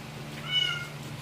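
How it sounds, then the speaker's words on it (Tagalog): A pet cat gives a single short, faint meow in the middle, rising and falling over a low steady room hum, with no one talking. "Umiyak na yung pusa ko."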